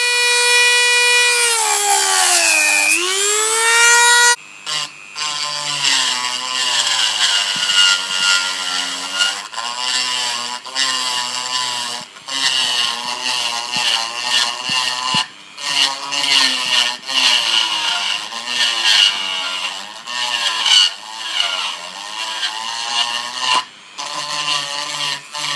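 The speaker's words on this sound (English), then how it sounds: "so I have to cut it off with a hacksaw." A hacksaw cuts through a motorcycle speedometer part from a Yamaha DT400, a loud rhythmic back-and-forth rasp of strokes with brief pauses between runs, close up.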